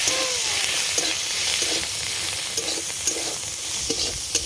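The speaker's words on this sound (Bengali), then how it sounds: "রসুন, পেঁয়াজ এবার ভালো করে ভেজে নেবো এটা।" Garlic and onion frying in a pan with black cumin for a cauliflower and eggplant mash, a continuous bright sizzle with light periodic stirring scrapes close by.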